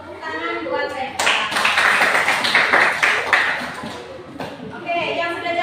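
Classroom applause breaks out for students who gave the right answer, a dense burst of many hands clapping that swells loud, dips briefly, then picks up again, with voices talking over it.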